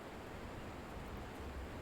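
Steady, dense rushing roar of a loud waterfall in a prototype build of the video game Vexx, continuous broadband noise at low level with no talk over it.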